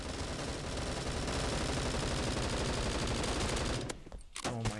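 Sustained rapid automatic fire from an M4 rifle in the video game Bullet Force, loud and continuous for about four seconds before cutting off into a few scattered quieter sounds.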